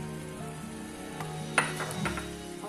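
Ground raw mango with jaggery and a spice mix of fennel, cumin and carom cooking in a pan over low heat: a quiet sizzle with a sharp clink of a utensil midway and faint stirring.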